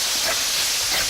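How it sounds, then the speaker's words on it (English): A whole bulb of minced garlic hits a pan of translucent sautéed onion, giving a steady, close, bright sizzling hiss throughout with no talk. "now that our onion is turned translucent, we're going to add our minced garlic"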